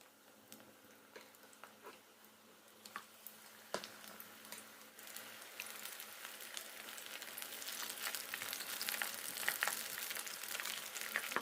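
Corn fritter batter deep-frying in hot oil, a soft crackling sizzle with scattered pops that grows gradually louder and busier toward the end.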